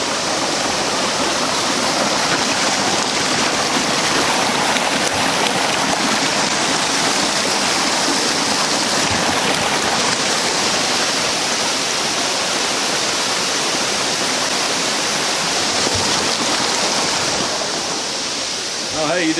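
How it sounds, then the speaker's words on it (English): A little creek near the Sapang Dalaga waterfalls rushes loud and close, a dense steady roar of flowing water, with faint voices now and then beneath it. "Now we're crossing the little creek."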